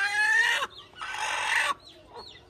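A hen in a farmyard making loud close clucking calls in two long rasping bursts, followed by fainter softer clucks, with no talk.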